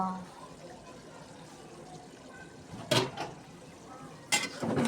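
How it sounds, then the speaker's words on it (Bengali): Mutton biryani stirred in a pot, soft scraping and faint bubbling under a steady low murmur, with two sharp clanks of a spoon against the pot near the end. "ভালোভাবে তলি থেকে নেড়ে নিতে হবে নাহলে কিন্তু তলি পুড়ে যাবে"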